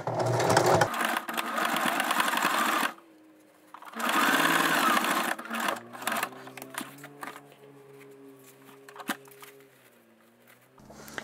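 A sewing machine stitching a canvas zippered pencil pouch, running in two loud close bursts of rapid whirring stitches separated by a brief pause, then falling to a quiet hum with faint handling noises.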